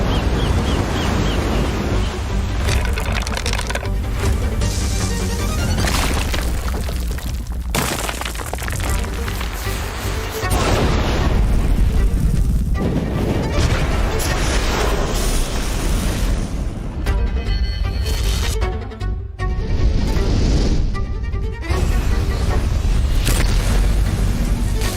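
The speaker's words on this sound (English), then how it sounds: "What is this, just a rocket crash?" A rocket crashes and explodes in an NVIDIA GTC simulation, giving a sustained roar of booms and crackling blasts that rises and falls over many seconds and never goes quiet.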